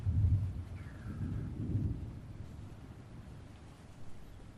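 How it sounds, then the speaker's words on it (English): Low rolling thunder plays as an ambient effect during a tabletop role-playing session aboard a ship, a deep rumble that swells early, then settles into a softer, continuous murmur. "But the sound of thunder is... It's moving in your direction, but it may pass by."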